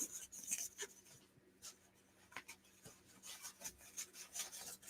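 Scissors or a blade trimming paper for the cover of an idea book, giving soft intermittent rasping, rubbing cuts, fairly faint and close, with small pauses between strokes and no talking.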